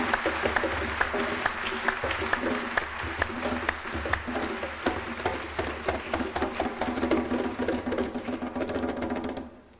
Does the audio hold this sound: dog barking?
no